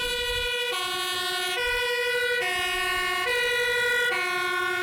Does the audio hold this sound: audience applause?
no